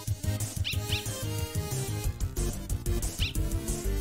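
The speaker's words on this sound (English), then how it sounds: "It was like a dog. Excited noises." Excited dog noises from a dog in the Undertale video game, a string of short squeaky yips and chirps over busy game music, loud and continuous for about four seconds.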